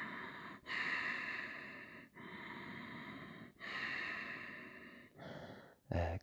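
Slow, deep breaths during a yoga stretch, several long airy inhales and exhales heard up close and alone, ending in a short sharp huff.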